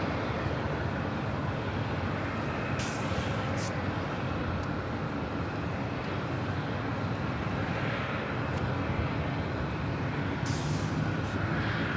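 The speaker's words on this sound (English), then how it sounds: "This is Delta Airlines 833 coming in from Boston on a 757-200." Delta Air Lines Boeing 757-200 arriving at Los Angeles International from Boston, heard as a steady, distant engine rumble under constant background noise, with no talk.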